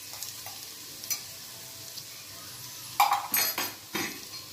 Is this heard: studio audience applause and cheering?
no